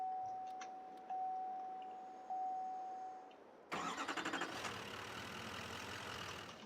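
A 2012 Chevy Silverado Duramax truck in Farming Simulator 22 starts after a steady warning chime and a few clicks, the engine cranking into a loud, rumbling diesel idle.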